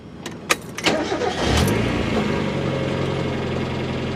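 A Mazda Miata with a newly replaced fuel pump starts up. A few clicks and a brief crank are followed by the engine catching and settling into a steady, close idle.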